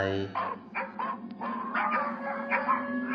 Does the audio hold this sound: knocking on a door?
no